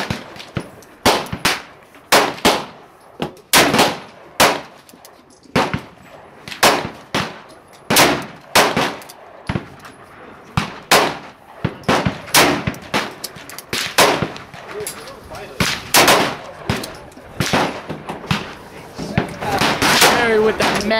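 Sharp, loud .357 Magnum revolver gunshots outdoors in a canyon, fired one at a time in an irregular string of about two dozen reports with short echoing tails, some bunched close together near the end, with no talking.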